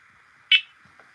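Smoke alarm under test, a single sharp loud electronic beep sounding over a faint steady tone, followed by a soft thump.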